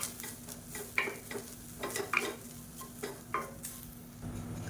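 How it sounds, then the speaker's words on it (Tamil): Grated coconut sautéing in a pan for sesame-filled kozhukattai, a low sizzle broken by light, irregular spatula scrapes and taps, near and faint, with no one talking. "இப்போ தேங்காய் நல்லா வதக்கியாச்சு"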